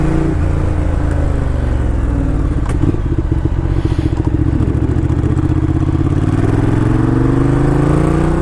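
A Ducati Diavel cruiser motorcycle on a test ride, its engine loud and close with a continuous rumbling drone. Throttle rises and falls through the ride with a crackling rasp, and no one speaks.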